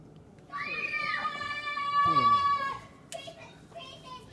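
Children playing and shouting outdoors, heard from inside a home kitchen: a long high-pitched sung or yelled call, then shorter excited cries, moderately close and fairly loud.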